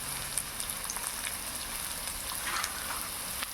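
Chopped vegetables, including beet and carrot, frying in oil for crispy fritters: a soft, continuous crackling sizzle, fairly quiet, with small irregular pops scattered through it.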